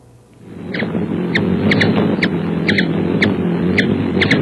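A ruby-throated hummingbird makes a steady low wing hum with a scattering of short, sharp chip notes spaced irregularly over it, close by and continuous.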